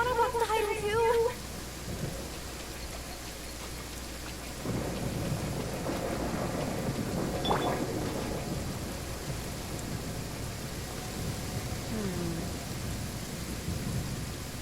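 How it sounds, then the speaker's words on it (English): Rain falls steadily in the video game Genshin Impact, with a low thunder rumble rolling in partway through and a brief game chime at the start, no voices. "Raining."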